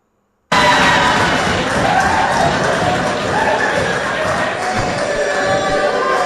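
A parliament chamber bursts into a dense, steady roar of clapping and cheering voices after a yes vote, loud and sustained from start to finish following a brief silent opening.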